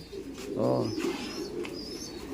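Racing pigeons in a loft give a single clear, close coo, followed by faint chirps and soft background rustling.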